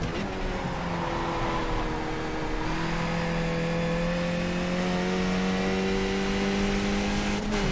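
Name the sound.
Skip Barber race car engine in iRacing video game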